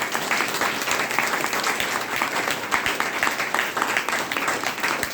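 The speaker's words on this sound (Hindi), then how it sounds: "बेहतरीन तालियों के बीच में ये कोहिनूर आप देखिए" Audience applause at a health training programme in Bhagwanpur, steady dense clapping from a crowd filling the whole stretch at an even level.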